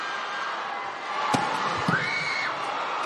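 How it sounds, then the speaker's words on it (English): A packed arena crowd at a volleyball match roars and cheers as Japan closes out a 25-12 set on a service point, a steady wall of noise with a couple of sharp thuds and whistle-like tones rising above it. "the crowd rises as one to acknowledge that performance by Japan"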